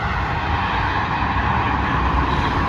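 Traffic on the German Autobahn rushes by at high speed, a loud, continuous broadband roar of tyres and wind with no pauses.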